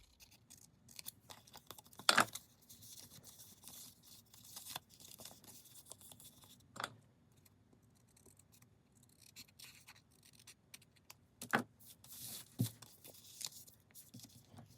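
Trimming folded cover material for book binding: quiet, scattered snips and scratchy cutting sounds, a few sharper clips standing out against a faint room background.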